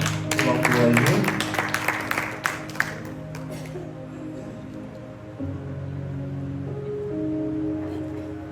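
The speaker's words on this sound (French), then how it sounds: "Elle avance sous vos applaudissements pour l'encourager." A church congregation applauds as a woman steps forward to preach. Lively clapping is heard at first, then thins to a few scattered claps and fades within about three seconds, leaving sustained keyboard chords over a murmur of voices.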